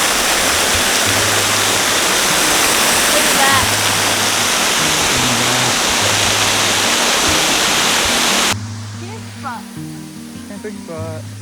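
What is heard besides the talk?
waterfall at Copperas Falls, Red River Gorge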